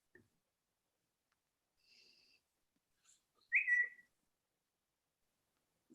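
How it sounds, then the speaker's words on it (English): A faint, distant whistle tone, followed by a brighter short rising whistle chirp, like a notification alert, in an otherwise quiet room. "Someone whistling?"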